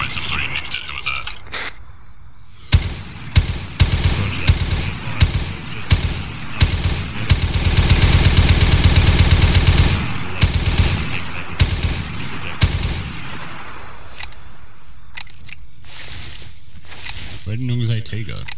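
Gunfire in the military shooter Arma 3, with sharp single shots and short bursts scattered across the scene and a dense sustained volley in the middle, loud and close, while players talk between the shots.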